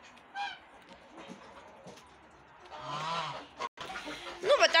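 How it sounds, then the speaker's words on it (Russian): Geese in a poultry shed give out a few honking calls amid quieter clucking fowl, with one louder burst near the end, close to the listener. "Гуси прям уже так выросли, уже как Мартин некоторые."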